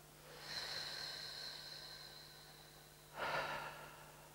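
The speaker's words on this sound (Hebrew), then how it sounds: "ניקח נשימה עמוקה" Two deep breaths taken during an EFT tapping exercise, a long airy inhale followed by a short, sharper exhale, close and quiet over faint steady background hum.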